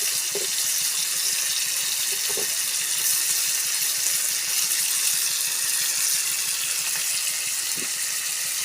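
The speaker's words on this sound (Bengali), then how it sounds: "এখন পানি দিয়ে দেবো।" Water pours steadily into a cooking pot of fish curry with spices, a continuous close rushing gush with a few faint clinks.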